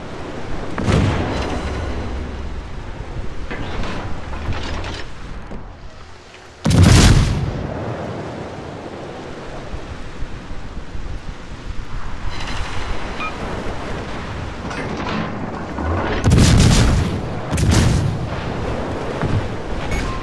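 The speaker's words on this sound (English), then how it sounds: "Incoming main battery salvo" Booming main battery salvos and shell impacts in World of Warships, around a Tier X Japanese light cruiser, come as two loud blasts separated by about ten seconds over a steady bed of ocean surf and wind.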